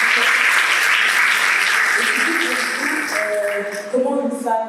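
Loud audience applause at a talk show, steady clapping that gradually thins as voices start speaking over it near the end.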